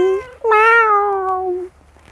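A small, cuddly cat at a plant and flower nursery gives one clear, close meow that rises and then trails off, heard on its own with no talking.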